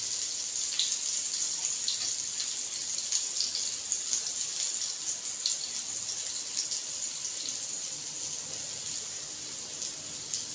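Hands washed under a running kitchen tap while cooking stuffed bitter gourd, a steady close hiss of flowing water with small splashes and spatter continuing throughout, fairly loud and without talking.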